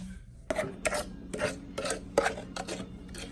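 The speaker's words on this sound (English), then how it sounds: "And then you whisk it while it cooks together." Sugar mixture is whisked in a pan as it cooks for a pudding, with a quick series of rhythmic scraping strokes against the pan at moderate volume.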